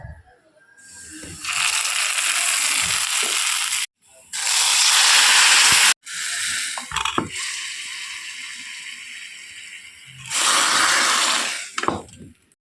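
Loud sizzling hisses in several long bursts, like small onions frying in hot oil, broken by brief pauses and clatter.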